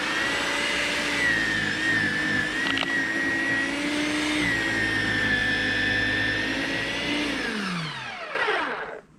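A Snow Joe 323E 13-inch 10-amp electric snow thrower runs with a steady, loud, high motor whine, close by. Near the end it winds down and stops.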